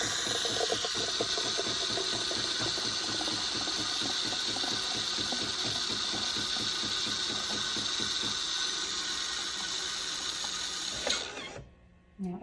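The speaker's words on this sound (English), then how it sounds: "I'm gonna put the frother all the way to the left because I like it frothy." A Jura E8 automatic espresso machine frothing plant milk, a steady mechanical whir with a rapid pumping rattle and airy hiss running for about eleven seconds before cutting off abruptly, followed by a brief clunk.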